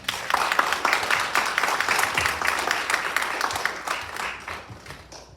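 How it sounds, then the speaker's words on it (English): An audience claps together after a talk about a school mission project in Kenya, a lively burst of overlapping hand claps that stays loud for several seconds and then tapers off. "Let's give her a hand clap."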